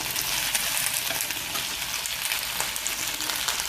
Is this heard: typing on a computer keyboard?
no